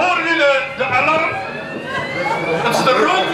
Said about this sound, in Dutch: Dat is de rookmelder van Artie.